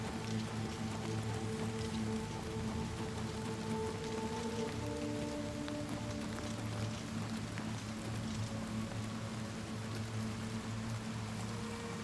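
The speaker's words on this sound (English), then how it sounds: "Are you guys hearing the rain too?" Steady rain pours throughout a rainy outdoor scene in the video game The Elder Scrolls IV: Oblivion Remastered, a dense, even hiss with a low rumbling bed that never lets up.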